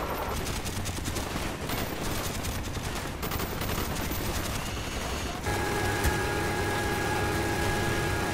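Gunfire in Call of Duty Black Ops, rapid automatic bursts over a heavy engine rumble, loud and continuous before easing into a steady mechanical drone.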